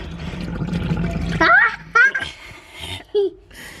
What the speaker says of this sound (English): I'm gonna get some water at the pipe.